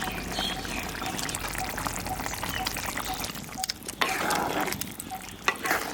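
Fried potato stirred into a chicken heart curry in a pan: steady sizzling bubbling with wet scraping of a spatula and a few sharp knocks against the pan, close and continuous.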